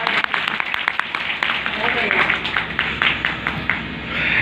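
A crowd at a speech event in Gopalganj, Bihar breaks into applause, with brisk clapping running throughout while people keep talking over it.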